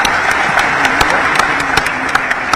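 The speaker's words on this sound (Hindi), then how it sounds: "एक बार जोरदार ताली बजाकर मोदी जी का अभिनंदन।" An audience at a Bhopal government event, where the chief minister hands out patwari appointment letters, breaks into dense, continuous applause, loud and close, with a few sharper claps standing out.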